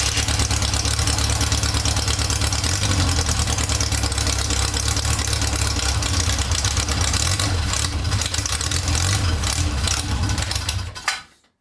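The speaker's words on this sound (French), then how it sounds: "j'ai mis un peu de starter et finalement ça a démarré" A classic Mini engine, given a little choke, runs at a steady, loud idle with an even rhythmic throb that continues unbroken until it cuts off abruptly at the end.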